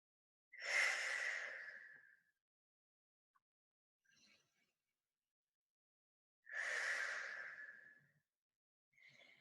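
Two long, deep breaths taken while holding a child's pose stretch, each a slow, airy exhale lasting over a second, close and soft, with near silence between them.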